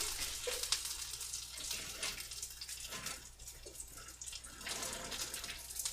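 Hot water drains from a cooking pot into a kitchen sink, a continuous splashing pour with gurgles and a few surges, fairly quiet and without talk.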